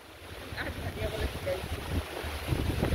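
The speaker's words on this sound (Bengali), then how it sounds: "ও সুন্দর একটা বাতাস ভাই," Breeze buffeting the microphone in gusts in Bandarban, with a low rushing rumble and faint water or boat noise in the background; no one speaks.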